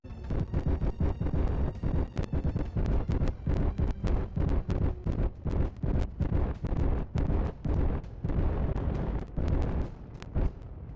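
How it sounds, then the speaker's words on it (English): Spaceship thrusters firing in the video game Space Engineers, a loud, continuous roaring rumble broken by dense, rapid bursts of sharp booming pulses throughout, close and steady with no talk. "activate the thrusters, and then we can fly our ship inside the base"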